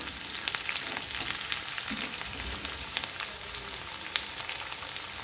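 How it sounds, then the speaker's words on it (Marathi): Garlic and green chillies sizzle in hot oil with a steady close crackle, and occasional light stirring sounds come through. No one speaks. "लसूण आणि हिरवी मिरची ती टाकून द्यायची तेलामध्ये छान हलवून घ्यायची"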